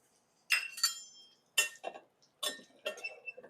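A metal spoon clinks and scrapes against a pan in short bursts as semolina is roasted and stirred in ghee, four or five quick clusters of clatter separated by near-silence.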